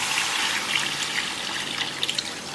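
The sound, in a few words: water poured into cooking pot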